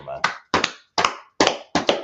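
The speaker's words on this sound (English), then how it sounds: "clap it up for the people, man" An audience claps in five sharp, evenly spaced bursts of close hand claps, each ending in silence before the next, with talking mixed in.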